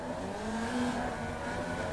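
A Formula Vee race car in iRacing holds its revs at the start at Rudskogen, a steady buzzing engine drone with a slight pitch rise and fall, loud and continuous.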